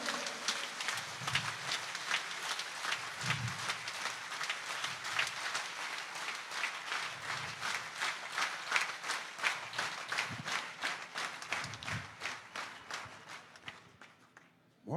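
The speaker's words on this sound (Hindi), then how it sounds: "जोरदार हरदा वाली ताली बजाकर उनका स्वागत करें" Audience at an open-air poetry gathering on a school ground clapping in a steady, rhythmic unison beat, faint and distant, with a few low thumps underneath.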